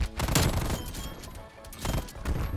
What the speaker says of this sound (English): I shot the mannequin